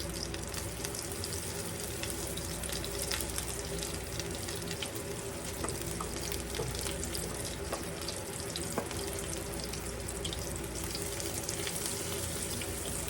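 Potato patties fry four at a time in a small skillet, a continuous crackling sizzle with scattered sharper pops, close and fairly quiet, no talking.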